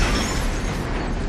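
An explosion sound effect fills the moment with a loud, dense, sustained rumbling burst, without any voices.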